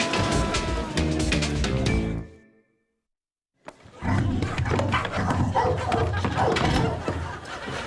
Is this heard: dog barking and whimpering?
yes